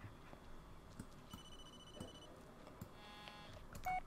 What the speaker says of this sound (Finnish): Puhelin vaan soi.